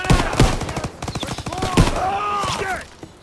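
Rapid rifle and machine gun fire crackles in bursts through a World War II battle in the Call of Duty WWII game, with sharp repeated shots mixed with shouting soldiers' voices.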